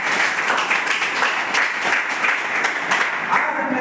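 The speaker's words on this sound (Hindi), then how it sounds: "जोरदार तालियां होने से।" Loud, sustained audience applause fills the room throughout, a dense steady wash of clapping at a motivational business seminar, with faint voices beneath.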